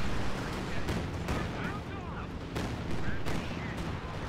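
Rockets and gunfire in a Company of Heroes battle, dense overlapping booms and crackling shots in repeated bursts, loud and continuous with a voice talking over the combat.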